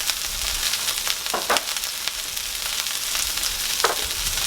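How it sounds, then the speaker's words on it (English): Onions and mushrooms with salt and pepper frying in a pan for smash burgers, a steady close sizzle with a couple of brief stirring scrapes and no talking. "we're just going to cook this until the onions are tender and the mushrooms are cooked down"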